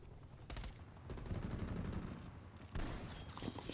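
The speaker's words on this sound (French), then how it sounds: "Ouais, un coup de pompe, ce qu'il m'a mis." Gunfire in the video game Call of Duty Cold War: sharp shot bursts and rapid firing in dense succession, loud and close in the game mix but quietly recorded, with no talk.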